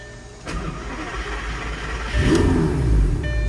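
A Lamborghini Gallardo Spyder engine is started with a key, with a brief crank around the half-second mark followed by a rising, loud engine roar that catches and swells near the end.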